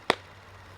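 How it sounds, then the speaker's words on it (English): A single sharp clapperboard clap marking the end of a take, one crisp wooden snap up close, followed by quiet room tone. "And clap."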